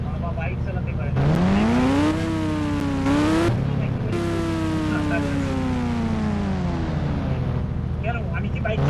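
A new motorbike's engine revs up, its pitch rising and falling and then settling into a steady close drone while it is ridden.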